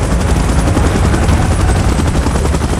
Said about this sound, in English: Chopper in position.